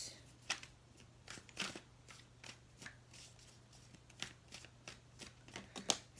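Tarot cards being shuffled for a reading: repeated soft riffling bursts with a quick, uneven rhythm, close and fairly quiet, with no talk.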